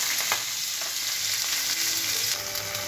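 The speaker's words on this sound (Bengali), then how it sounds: "সাদা তেল গরম হয়ে আছে। আমি দিয়ে দিচ্ছি রসুন কুচি আর পেঁয়াজ কুচি" Chopped garlic and onion hit hot white cooking oil in a pan, setting off a loud, dense, continuous sizzle that stays close and even for a few seconds, with no talk over it.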